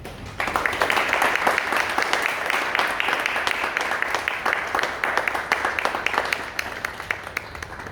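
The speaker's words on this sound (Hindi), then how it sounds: "तालियां बजाकर अपने खुदावंद की शुक्रगुजारी करें" Congregation clapping at a Saturday prayer and worship service, a continuous loud burst of many hands that swells at once and holds steady to the end.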